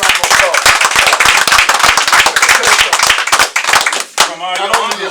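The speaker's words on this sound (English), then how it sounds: "Give him a big old happy birthday round of applause." A group claps loudly and rapidly for a birthday, dense overlapping applause with a few whoops and voices mixed in, fading briefly before a final sharp clap and some talking near the end.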